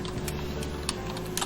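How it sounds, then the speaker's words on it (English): Typing on a computer keyboard while entering text, with steady, soft key taps running through the whole short stretch and no talking. "Similarly, I can use it amid typing"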